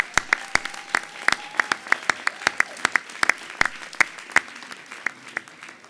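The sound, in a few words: applause for graduating master's students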